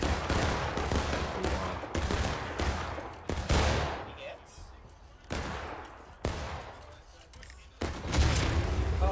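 Artillery fire in the Civil War game War of Rights booms repeatedly, with several heavy blasts spaced a second or two apart over a dense bed of musket fire, loud and close, while voices talk over the battle.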